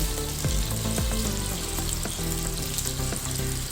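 Kofta meatballs fry in a pan with a loud, steady sizzle and crackle, close up, with occasional stirring clinks and no talk.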